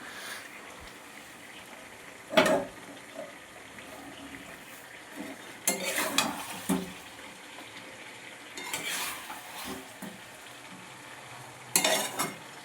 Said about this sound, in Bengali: এই যে আমার মাংস কষা হচ্ছে এখন